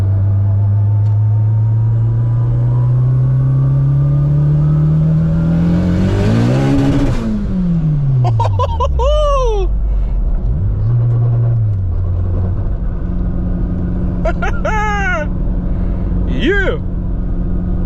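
A 600hp turbocharged Honda Civic pulls hard, its engine note climbing loud and close, dropping, then surging again, with sharp turbo chirps and flutters between gears and a brief voice over it.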